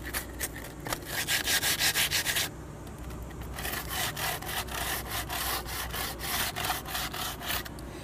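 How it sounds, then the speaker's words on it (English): Folded sandpaper rubbed by hand across a wooden window frame, giving a steady run of rhythmic, close scratchy strokes with a brief lull midway before the strokes resume. "I have a nice piece of sandpaper that once I run out of this face, I can refold it to that face."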